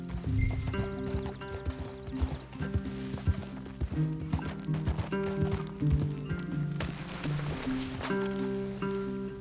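Horse hooves clip-clop busily alongside a whinny in Red Dead Redemption 2, set against sustained musical game soundtrack tones.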